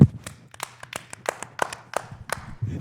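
Around a dozen sharp, separate hand claps for Jeff Bezos from a few people nearby, uneven and loose in rhythm, standing out clearly against a quiet room.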